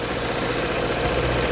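A Vespa LX 125 carburetor scooter engine idles steadily nearby, a continuous low rumble with a slight shift in pitch near the end, no voices.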